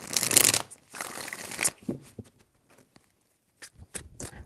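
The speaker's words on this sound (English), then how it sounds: "3 shuffles." Tarot cards are shuffled in two dense riffling bursts, followed by softer scattered taps and slides as the deck settles; close and fairly quiet, with no voices.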